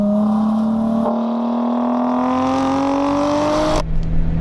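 Supercharged Lotus Exige S engine wails at high revs, its loud rising tone climbing steadily through a gear before a sharp cut and drop to a lower steady note near the end.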